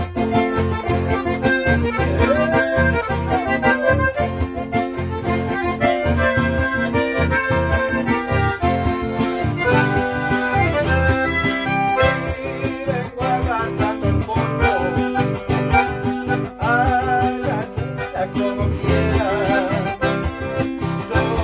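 A chamamé medley from Corrientes plays on the radio as full, dense ensemble music. It is loud and continuous, with a driving rhythm throughout.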